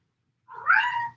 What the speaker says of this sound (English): Maybe you can tune into Luca's meow.